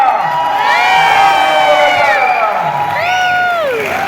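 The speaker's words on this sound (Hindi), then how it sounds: "जोरदार तालियां।" A crowd at a team event cheers with rising whoops and shouts over steady background clapping, loud and close, voices sliding up and down in excited calls.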